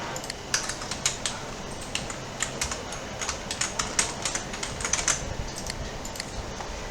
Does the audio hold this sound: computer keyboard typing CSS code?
yes